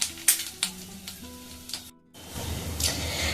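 Nigella seeds, cloves and cardamom crackle in hot oil while a pointed gourd dish is cooked, a soft sizzle with a few sharp pops, a brief dropout, then a louder rushing fry.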